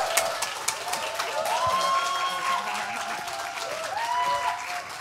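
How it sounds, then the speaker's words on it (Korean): Sustained applause from an audience, dense clapping throughout with some cheering and crowd noise mixed in. "박수로 맞아주십시오."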